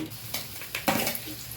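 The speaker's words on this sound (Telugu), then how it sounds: "ఒక 20 ఎండుమిరపకాయలు వేసుకోవాలి." About twenty dried red chillies go into a pan to be fried, giving a few quiet clatters and light scraping stirs with a faint sizzle underneath, and no voices.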